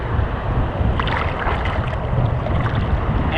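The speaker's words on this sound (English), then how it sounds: "these waves are crazy." Ocean waves at Railay Beach, Thailand, a dense, steady roar of surf and rushing water with wind buffeting the microphone, constant and loud with no talking.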